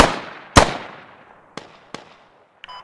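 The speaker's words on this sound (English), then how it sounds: "Three shots total." Gunshots ring out in the military shooter Squad, one loud close crack with a long echoing tail followed by two fainter, more distant shots and a brief final click.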